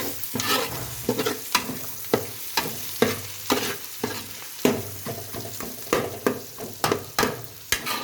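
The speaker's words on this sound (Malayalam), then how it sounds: "നമുക്ക് ഈ തക്കാളി ഇതും കൂടി നമുക്ക് നല്ലപോലെ മിക്സ് ചെയ്യണം" Tomatoes being stirred into chicken curry frying in a pan, a steady series of scraping spoon strokes over a continuous sizzle, close and fairly loud with no talking.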